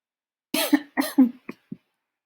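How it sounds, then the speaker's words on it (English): A fit of coughing up close: several harsh bursts in quick succession, the last ones shorter and softer, then silence. "You know what that cough means, right?"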